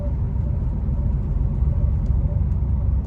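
A truck pulls up to a logistics warehouse for unloading, its engine a steady low rumble that stays loud and close throughout, with no speech over it.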